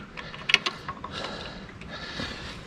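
Small hand screwdriver tool working a bolt on a BMW GS motorcycle, giving a few quick ratcheting clicks and metallic ticks near the start, then faint scraping and handling noise.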